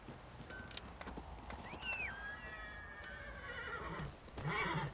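A horse whinnies loudly in The Witcher 3, its neigh rising and trailing off, with hoofbeats clip-clopping steadily underneath and a second whinny near the end.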